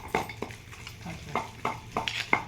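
Peanuts and tamarind are ground into chutney by hand, village style. A pestle or stone scrapes and thuds in irregular, separate strokes, close and fairly quiet.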